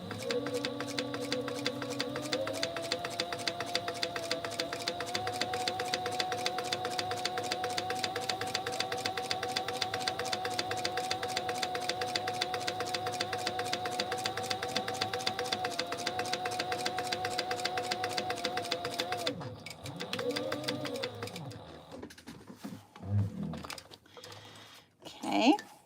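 A home sewing machine runs steadily, stitching an elastic casing on a Mini Scout garment, its fast rhythmic needle clatter continuing for about twenty seconds before stopping, followed by light handling noises.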